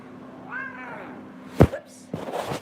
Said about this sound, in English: I'm sure that's my neighbor's cat.